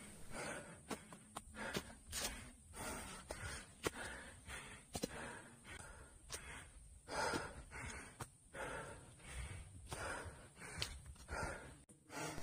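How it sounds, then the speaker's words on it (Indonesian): Heavy, labored breathing from a hiker climbing a forest trail up Mount Palasari, rhythmic rasping breaths and snorts repeating steadily throughout, close and fairly loud in otherwise quiet surroundings. "suara napas saya yang memburu terdengar jelas"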